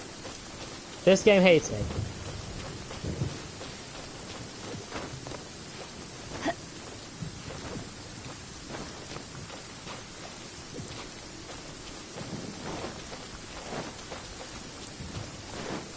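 Steady rain hiss fills the scene in Genshin Impact during a fight with Abyss Mages, with a few distant thunder rumbles rolling under the soft patter while a player talks over it.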